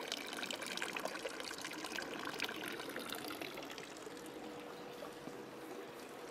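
Water from a public fountain in Thun, Switzerland splashes and trickles steadily throughout, a continuous moderately close wash of falling water with no voices.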